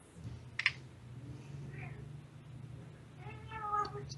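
Cats fight indoors, giving a faint drawn-out yowl and meow in the background over computer keyboard typing, a low hum and a brief click near the start.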